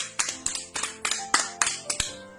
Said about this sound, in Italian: A loro va il nostro applauso